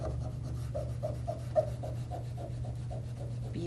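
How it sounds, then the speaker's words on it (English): A cloth or pad rubs back and forth over a painted craft piece to wear off its lettering, making a soft, rhythmic scuffing of about a dozen even strokes, close by, over a low steady hum. "Some of the lettering might come off depending on how hard you're rubbing"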